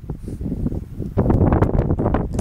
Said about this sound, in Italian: No, bastardo vento.